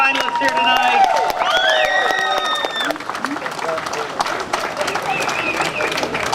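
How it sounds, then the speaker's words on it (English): Audience applause and cheering for finalists at the World Duck Calling Championship in Arkansas, a dense burst of clapping from a crowd with voices and a bright whooping call over it, fading slightly then continuing. "Let's have a big hearty round of applause for our finalists here tonight."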